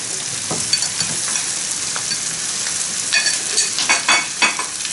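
Chicken marinated for fifteen minutes hisses loudly as it fries with softened sautéed onions in a pan, a continuous sizzle with stirring swells toward the end.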